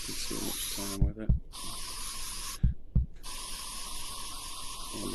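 Long hissing bursts of a spray paint tool in the VR sculpting app Oculus Medium, cut by short pauses with low thumps and clicks, repeating in a loose rhythm at close range.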